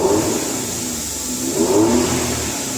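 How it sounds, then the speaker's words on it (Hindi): A Maruti Wagon R BS6 car engine runs steadily just after starting, a close, loud, even hum with a slight rise in revs near the end and no talking. "गाड़ी स्टार्ट हो गई है कंप्लीट,"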